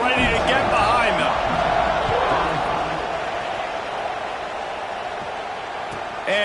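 Stadium crowd roaring steadily in College Football 26 ahead of a kickoff, a loud broad wash that swells at the start and holds, with a commentator talking over it.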